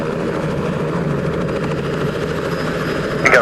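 A helicopter hover taxis at an airfield on a windy day, its rotor and engine producing a loud, steady, close droning thrum that holds throughout, with a brief gusty swell near the end.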